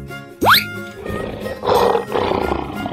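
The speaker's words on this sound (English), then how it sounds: "Lion." A lion's roar in a children's animal sound sequence: one loud rising roar near the start, followed by rumbling, growling bursts over the remaining seconds.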